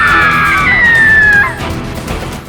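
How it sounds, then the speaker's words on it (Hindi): A woman's high, sustained scream, presented as the cry of a queen in a haunted palace in Uttar Pradesh, loud and close, holding for over a second before breaking off into a dark, reverberant background. "महारानी की चीखें उड़ा देती है नींद"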